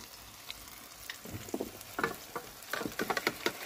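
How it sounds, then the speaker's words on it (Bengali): Chicken is added to fried onions and sautéed in a pan over an outdoor wood-fire stove in a garden, a soft sizzle punctuated by repeated scraping stirs that grow louder toward the end. "দিয়ে এবার কষাতে হবে।"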